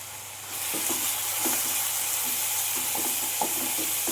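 Spices for a rohu fish curry sizzle steadily in hot oil, with a spoon scraping and stirring through the pan every second or so, close and continuous.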